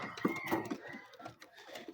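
Soft bird calls and cooing from domestic pigeons, with a few brief chirpy notes from a pigeon chick close by over a light background hiss.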